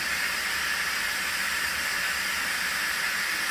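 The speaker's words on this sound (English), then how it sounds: "Okay, so the steam is coming out." Steam hisses steadily out of the vent of an Instant Pot Pro pressure cooker, a loud, unbroken close-up rush that runs the whole time with no talk over it.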